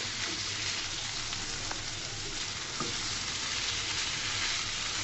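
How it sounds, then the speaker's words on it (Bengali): Fish roe sizzling in hot oil in a pan while being stirred, a continuous bright crackle with occasional soft scrapes, close and steady, no voices. "তেলের মধ্যে মাছের ডিমটাকে ভালো করে কষিয়ে নিচ্ছি।"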